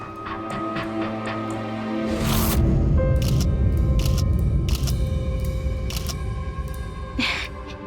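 A camera shutter clicks repeatedly as someone takes selfies. The sharp snaps come in an irregular series over background music.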